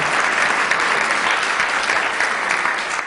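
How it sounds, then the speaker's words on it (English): Audience applause fills a hall during Governor Lombardo's 2023 State of the State address, a dense, steady wash of many hands clapping at even loudness for the whole stretch, with no voices over it. "You can clap."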